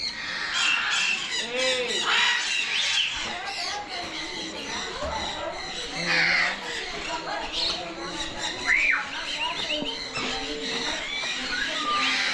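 Green parakeets squawk repeatedly in an outdoor bird park where visitors hand-feed them, their harsh calls mixed with chirps and chatter at close range, with people talking nearby throughout.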